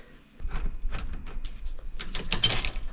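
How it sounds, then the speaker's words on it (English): A screwdriver or ratchet works loose the screws of an old dishwasher bracket, giving a run of close, irregular clicks, scrapes and metallic rattles that grow busier and louder toward the end. "So I just gotta unscrew this."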